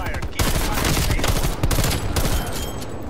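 Dense, sustained gunfire from a Black Ops Cold War VIP escort match, overlapping bursts and shots filling the whole stretch at close, loud range after a brief quieter opening.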